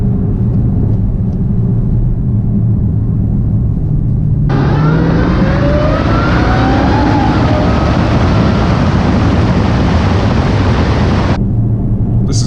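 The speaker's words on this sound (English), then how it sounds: "Oh my God, that supercharger whine." Dodge Charger Hellcat on the road with its engine roaring loudly and steadily, a rising supercharger whine climbing over the heavy exhaust rumble as it accelerates hard, then cutting off abruptly.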